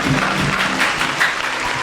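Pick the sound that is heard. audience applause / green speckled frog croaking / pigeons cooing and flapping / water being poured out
audience applause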